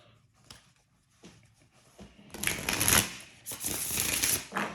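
A deck of tarot cards being shuffled by hand close up, with soft scattered card taps at first, then two dense, loud riffling bursts of papery flutter with a short pause between.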